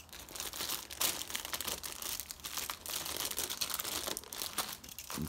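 A plastic bag holding sprues from an Academy Tiger I Late model tank kit crinkles and rustles up close, in a steady, continuous stream of crackly handling noise that lasts throughout with no talking.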